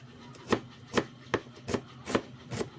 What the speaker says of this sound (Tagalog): maghiwa na ta sa ato ang ahos para magisa na ta